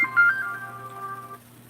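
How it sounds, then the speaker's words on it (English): Phone notification chime going off indoors, a short bright tone that rings briefly and then fades out, heard alone with no talking. "I don't know why my phone's going off so much."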